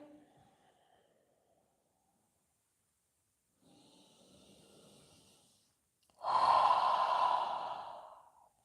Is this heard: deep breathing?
yes